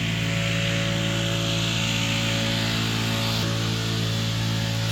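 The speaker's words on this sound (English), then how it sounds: "The scenic sounds of the leaf blower." A leaf blower runs steadily at Lake McDonald, a loud continuous engine drone with a broad airy hiss that holds unbroken throughout, close and alone.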